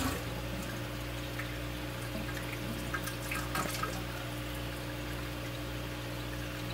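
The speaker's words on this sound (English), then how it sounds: "The water will stop draining out fairly soon." Water drains from the sump of a freshwater turtle tank, a continuous trickling and gurgling flow over a steady low pump hum, with a few brief splashy drips partway through.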